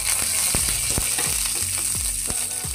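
Dried red chillies and nigella seeds frying in hot oil for a red amaranth greens dish, a steady close sizzle with scattered sharp crackles and pops throughout.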